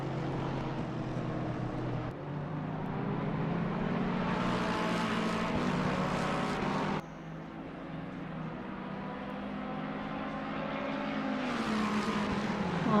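Race cars lap the Hungaroring in a sim racing game during a 12-hour charity endurance event. Loud, continuous engine tones rise and fall through gear changes, with a sudden shift in pitch midway as the sound changes to another car.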